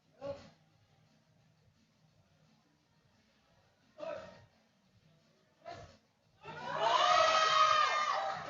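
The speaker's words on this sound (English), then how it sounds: "Crowd's going wild for Roxanne here." Powerlifting crowd at a bench press meet: a few brief, scattered shouts over a quiet hall, then a loud swell of cheering and yelling voices.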